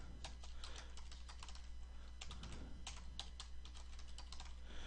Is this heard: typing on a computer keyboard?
yes